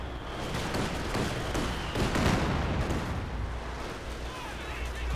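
Dense battlefield gunfire from a Company of Heroes 2 match in Lienne Forest, machine gun bursts mixed with artillery and explosions, a continuous loud rumble with sharp cracks throughout.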